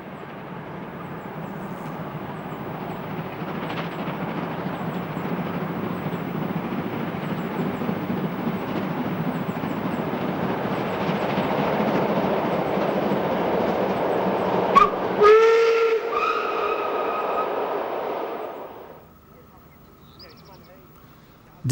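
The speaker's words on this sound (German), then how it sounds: "Von Zeit zu Zeit verirrt sich auch mal ein Dampfzug hierher." A steam train passes on the two-track Moselle railway main line between Koblenz and Trier, a long, loud rolling rumble with rail clatter and a whistle blast near the end before the sound drops away.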